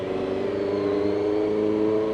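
A motorcycle with an aftermarket exhaust drones steadily on the road nearby, its engine note holding a fairly even pitch with no speech over it.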